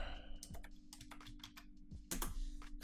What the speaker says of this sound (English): Excuse the retarded typing.